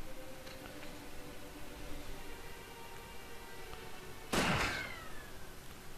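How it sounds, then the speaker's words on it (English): An explosion goes off somewhere inside a building in the video game Final Fantasy XIV, a single loud, sudden blast that breaks over a steady bed of game music and ambience, then fades out with a short rumbling tail. "I believe it was an explosion from somewhere within the building."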